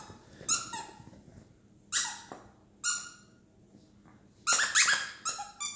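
Dogs play with plush rabbit and beaver squeaky toys, giving repeated bursts of high squeaks in uneven clusters, with a short gap and a busier flurry of squeaking near the end.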